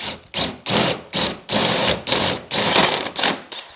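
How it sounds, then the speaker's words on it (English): A drill bores through a wooden pantry door in an 1880 house, a series of loud, close bursts of grinding about every half second, each cut starting and stopping in quick rhythm. "So I'll drill that through now."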